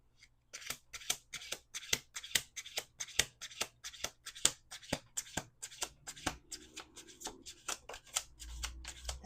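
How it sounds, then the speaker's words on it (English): Repeated crisp riffling and snapping of a deck of playing cards being shuffled by hand, close and clear, in quick irregular bursts with no talk. "Last shuffle."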